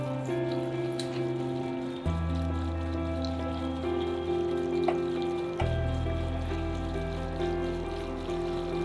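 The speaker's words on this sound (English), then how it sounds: "we'll have to pour in our 5 liters of kerosene inside our mixing bowl" Five liters of kerosene poured into a mixing bowl for soap making, a steady continuous trickle and splash of liquid with shifting tone, heard alone without talking.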